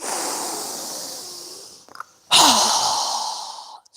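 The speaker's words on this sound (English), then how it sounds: "we'll exhale with a strong, fast breath as we quickly lower our arms and hands down, exhaling through our mouth" Strong, fast exhales are forced through the mouth during yoga, two loud rushing breaths split by a short gap, close to the microphone with no talking.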